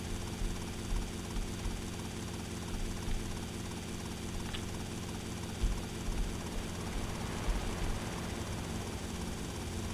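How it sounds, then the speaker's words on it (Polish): A helicopter in the video game GTA Vice City drones with a continuous rotor and engine hum, steady and close, with a few brief bumps and no speech. "Ale uderzyłem w jakiś inny helikopter!"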